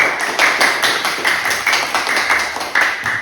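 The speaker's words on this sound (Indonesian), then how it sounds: "beri tepuk tangan untuk kita semua anak-anak" A class of schoolchildren claps together in a classroom, a dense, steady patter of many small hands going for about three seconds with slight surges, close and fairly loud.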